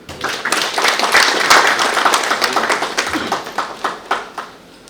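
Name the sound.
audience applause after a video is played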